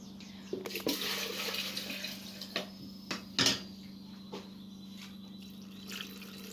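Salted brine poured into a jar of green olives being cured Syrian style, with gurgling, trickling water and a few sharper splashes and clinks over a low steady hum, fairly faint and close.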